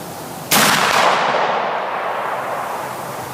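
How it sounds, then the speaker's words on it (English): A single loud rifle shot fired with Hornady Great Plains bullets cracks out sharply and close, then decays into a lingering echo that fades over several seconds. "I'm going to try one more shot and see if we need to make a sight adjustment."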